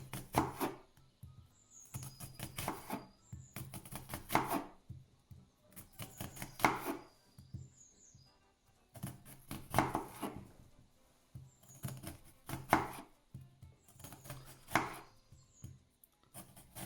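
A knife makes small, fine incisions into an onion down toward the white part, with bursts of quick crisp cuts in a steady rhythm separated by short pauses, close and fairly quiet, with no talking.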